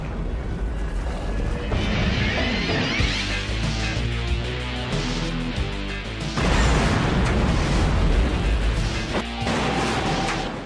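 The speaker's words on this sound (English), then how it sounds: "You could feel that heat and the shock of the explosion on your back." A loud, rumbling explosion with crashing debris and a sustained roar that swells again partway through.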